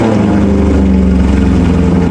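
A Maserati GranTurismo with straight-through pipes and no back box rumbles loudly and close by, holding a deep, raw, steady idle drone throughout.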